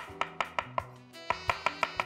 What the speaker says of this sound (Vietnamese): Nấm linh chi chúng ta cũng sẽ bầm nhỏ.